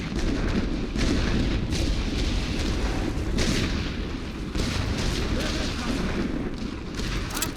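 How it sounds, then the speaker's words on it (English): Heavy artillery barrage in The Great War: Western Front, a World War I strategy game: a dense, continuous rumble of distant booms and blasts rolling together at steady loudness for several seconds. "Our men get in there right after the heavy artillery barrage."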